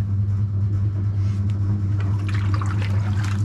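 Water splashes and trickles onto dry clay spinning on a pottery wheel, small wet bursts over a steady low motor hum and rumble from the wheel.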